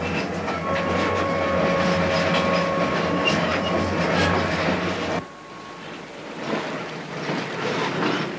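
A train rumbles steadily along the tracks with a rhythmic clatter and a faint tonal whine, the noise dropping and shifting partway through as it continues.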